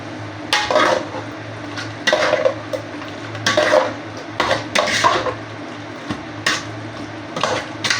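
Tomato paste being stirred into chicken mechado in a pot, with repeated scraping clinks of a metal utensil against the pot in an irregular rhythm over a faint simmering background, fairly close and with no talking.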